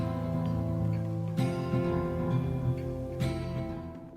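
A quiet, looping video game tune plays on its own, sustained tones with a few accented hits, softly in the background.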